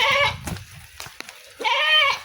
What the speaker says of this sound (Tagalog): Kambing, huwag ka maingay.